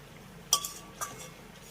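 Pointed gourd being stirred with spices in a pan, heard as two or three sharp metallic clinks of a spoon against the pan over a quiet background, close and brief, with no voices.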